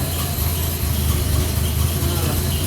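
A car with its clutch pushed in idles steadily, a low continuous engine rumble running throughout with no break.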